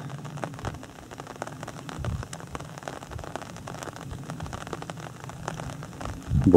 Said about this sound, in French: Bon, bah il pleut toujours.